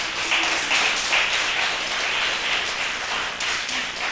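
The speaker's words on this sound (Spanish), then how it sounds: "Vamos a darle un fuerte aplauso a nuestro Señor" A church congregation applauds the Lord at a Sunday service, dense steady clapping from many hands filling the room, fairly close and continuous throughout.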